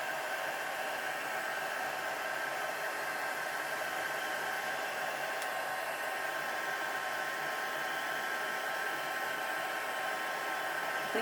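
A hair dryer blows steadily on coffee-painted journal tags, a constant close whooshing drone at even loudness from start to finish, with no voices.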